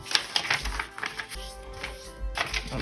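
Origami paper folded in half for a Triceratops model, a series of close, crisp crinkles and soft creasing taps in quick irregular bursts, with no talking.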